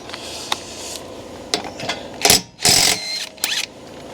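Wheel being removed from a Sprinter van using a 19 mm socket: a scatter of short metallic clicks and clanks, with a few louder bursts of rattling impact near the end, close and alone without talk.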